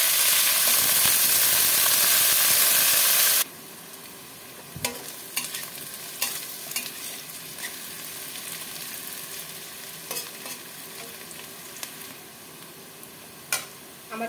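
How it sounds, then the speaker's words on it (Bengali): Chopped onions hit a hot pan for mutton curry with a loud burst of sizzle, then settle into a quieter fry as a spoon scrapes and stirs, producing scattered clinks and scrapes over the soft crackle. "দিয়ে দিলাম পেঁয়াজ কুচি।"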